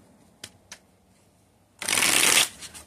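Tarot cards being shuffled: two light taps, then a half-second burst of dense riffling close by, ending with a soft settle.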